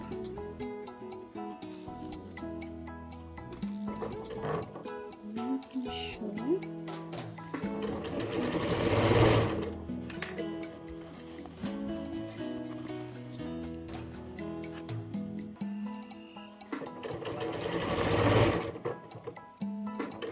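A sewing machine stitches fabric for an iPad or book pouch in several runs of rapid, rhythmic clatter, with two louder bursts of fast stitching and quieter handling between them.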